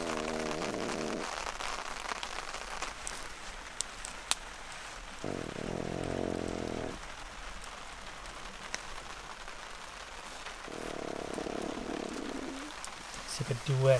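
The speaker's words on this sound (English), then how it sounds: "It's gonna rain until tomorrow" Steady rain patters continuously on surfaces at a campsite in northern Algonquin, a soft hiss and drip throughout, while a low hum rises and fades a few times underneath.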